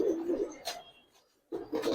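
Giribaz pigeons coo in short low throaty bursts, separated by a brief quiet gap, close by, with a faint sharp wing or cage sound in between.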